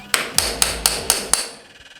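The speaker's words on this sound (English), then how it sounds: "so we punch our pilot holes now" Six evenly spaced sharp hammer taps punch pilot holes for a plumbing fixture installation, close and fairly loud, each with a brief ringing tail, then a faint fading rattle.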